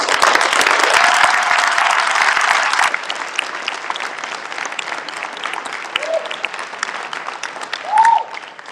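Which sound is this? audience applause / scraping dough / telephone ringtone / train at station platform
audience applause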